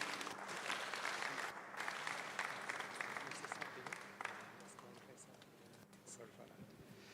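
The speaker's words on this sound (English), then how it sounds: "Clap for the pastor as he comes, you guys" An audience at a savings cooperative's annual general meeting claps for the pastor, a moderate, somewhat distant round of applause that gradually thins, with voices talking over it.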